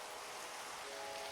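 Rain falling in the Minecraft ATM10 modpack, a steady, even hiss of downpour with no other sounds over it.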